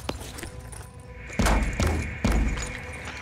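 Heavy weapon fire in the tactical video game Phoenix Point, heard as three loud, booming thuds about half a second apart, each with a sharp crack and a short rumbling tail over quiet game ambience.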